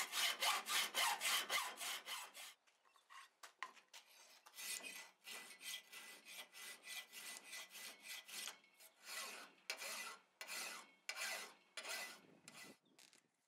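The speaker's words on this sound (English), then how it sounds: "put a safe edge file across it, and file my tenon" A safe edge file rasps across a metal tenon on a blacksmith-made Suffolk latch staple, giving steady, rhythmic back-and-forth strokes that sound close and loud, with a brief pause partway through and no talking.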